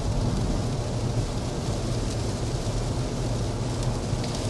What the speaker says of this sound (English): it is also raining